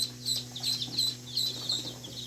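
Tiny newly hatched chicks, fresh from an incubator, peep in high, thin chirps, several overlapping in quick bursts, close by over a low steady hum.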